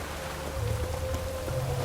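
Steady rain falls in The Witcher 3: Wild Hunt, a continuous soft hiss with a faint sustained tone running beneath it and no voices.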